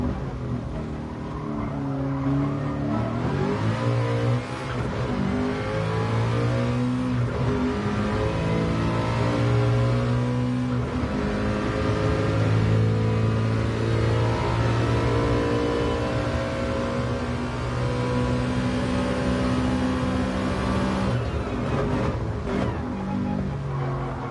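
A race car engine revs under throttle in GT Sport at Bathurst, loud and continuous with rising and falling pitch as the car accelerates and shifts, with faint tire noise.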